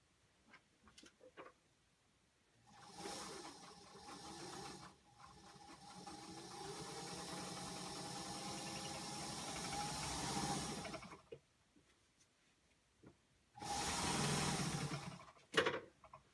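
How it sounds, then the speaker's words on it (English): A sewing machine stitches a seam for foundation paper piecing in a quilting project, running in a long steady whir of several seconds, then stopping, with a second shorter burst later, close and clear. "So I'll go sew this seam."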